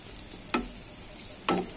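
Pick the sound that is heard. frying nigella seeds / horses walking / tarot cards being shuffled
frying nigella seeds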